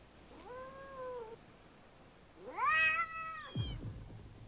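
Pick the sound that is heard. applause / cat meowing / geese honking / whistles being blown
cat meowing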